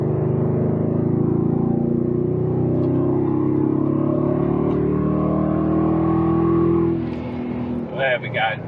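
A BMW 8-Series E31 pulls hard in third gear, its engine note climbing steadily and loudly from inside the cabin before easing off, followed by a brief voice.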